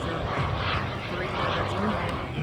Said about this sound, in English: See how he's flying slow with the flaps down, doing that slow pass?